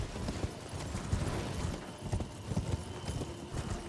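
Torrent, the spectral steed in Elden Ring, gallops with rapid, steady hoofbeats over a dense, continuous wash of ambient game sound.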